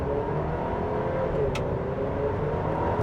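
A 2026 GMC Acadia Elevation in sport mode pulling hard from a standstill, a steady loud engine drone with rising pitch heard from inside the cabin, continuous for a few seconds without talking.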